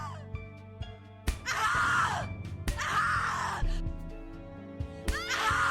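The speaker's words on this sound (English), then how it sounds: "Scream your lungs out!" A person in The Cat Lady horror game lets out repeated loud, anguished screams in three long bursts, set against ominous music and low groans.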